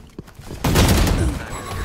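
Burst of sustained automatic gunfire from the tactical shooter Valorant during a university tournament grand final, loud and continuous after a brief quiet start, with faint voices beneath.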